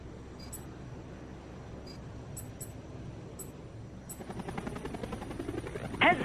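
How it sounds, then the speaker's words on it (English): Enemy helicopters close in during the Xbox 360 combat flight game Tom Clancy's HAWX 2: a few faint electronic beeps, then a rising rhythmic rotor chop growing louder toward the end. "Heads up, we got enemy helos closing in."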